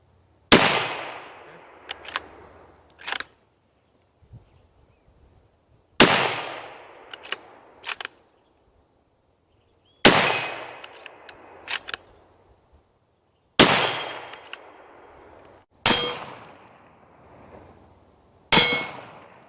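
A Ruger American Ranch rifle in 300 Blackout fires with CCI 400 primers, giving sharp, loud, close single cracks spaced several seconds apart, each followed by a short metallic rattle of working the action.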